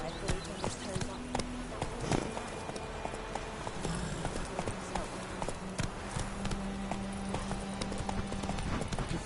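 Horse hooves gallop in a PS4 video game, a quick rhythmic clip-clop at moderate loudness, with a voice talking over the hoofbeats.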